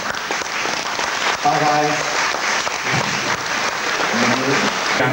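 Audience at a Studebaker car club national meet giving a round of applause, steady dense clapping with a voice talking over it.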